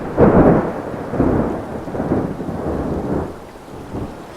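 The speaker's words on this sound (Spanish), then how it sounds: "La lluvia caía sin misericordia, azotando los vidrios de las ventanas, y las luces de los relámpagos iluminaban por unos instantes las montañas" A thunderstorm effect for a Spanish horror audio tale, loud rolling thunder rumbles swelling and fading in waves over a steady wash of heavy rain, with no voices.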